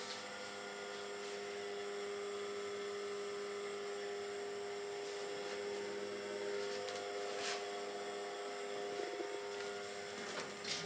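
A turbo pump on an E-beam and thermal evaporation vacuum system whines steadily with sustained high-pitched tones and a constant hum, joined by faint clicks and brief bursts of noise.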